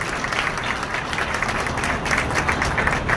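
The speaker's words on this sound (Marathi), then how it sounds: "त्यामुळे त्यांचं एकदा जोरदार टाळ्या वाजवून आपण स्वागत करू." An audience at a heart institute inauguration ceremony in Nashik breaks into sustained, dense applause, a steady wash of many hands clapping throughout.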